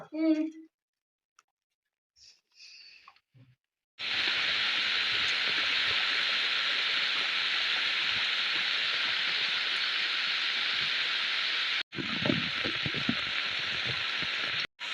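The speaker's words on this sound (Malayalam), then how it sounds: "നല്ല മഴ പെയ്യുന്നുണ്ടേ പുറത്ത്" After a few brief bits of talk, a dense, steady wash of heavy rain starts suddenly and continues loudly, with voices briefly heard under it near the end.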